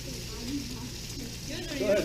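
U10 scallops sear in a hot pan with a steady, close sizzle and frying hiss. Faint voices are heard over it.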